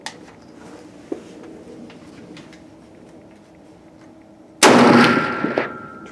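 A single loud, close shot from a 444 Marlin rifle firing Remington flat-point rounds, a sharp blast with a ringing tail after a quiet outdoor range stretch with faint small clicks.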